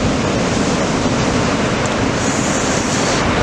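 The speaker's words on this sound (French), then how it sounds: "un vent est-sud-est dans les deux Beaufort bien établis, il souffle bien" Steady, loud east-southeast wind noise roaring over the microphone at the surf beach in Anglet, France, with a broad rushing hiss and no voices.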